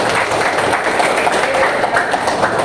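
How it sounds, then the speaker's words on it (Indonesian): A group of people clapping hands together in a dense, continuous patter of applause, close and lively throughout with no pauses. "Tepuk tangan semuanya."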